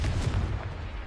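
Confringo fire explosion spell cast in the Hogwarts Legacy video game on PS4, a loud, dense booming blast with a rumbling low-end roar that fades slightly over about a second.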